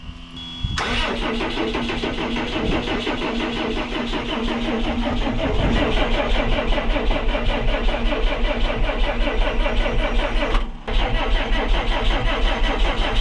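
The Cummins diesel engine of a Snap-on truck that had not run in ten years starts up after a brief crank and settles into a loud, steady, rough idle close by, dipping once briefly before running on.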